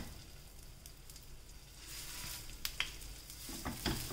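Cauliflower and pea cutlets shallow-frying in oil on a tawa give off a faint, steady sizzle that swells slightly louder toward the end, with a few crackling pops.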